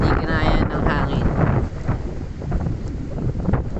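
Strong wind buffets a phone microphone outdoors, roaring and rumbling continuously across the whole stretch and knocking over the phone stand, with broadband gusting noise dominating throughout.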